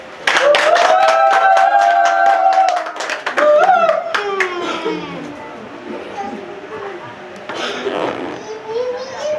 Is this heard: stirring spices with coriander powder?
no